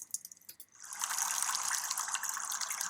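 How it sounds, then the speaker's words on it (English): A river sound effect triggered on screen: after a few soft clicks, a steady rushing wash of flowing water swells in and continues at moderate level, alone without voices. "We want the river to start"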